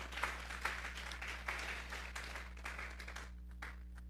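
A church congregation at a Sunday service claps together in steady, sustained applause at moderate distance over a low hum, fading out toward the end.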